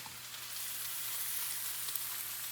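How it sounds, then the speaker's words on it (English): Salmon sizzles steadily in a hot pan, a continuous close crackling hiss that holds even throughout, with no one speaking. "has a little sizzle to it"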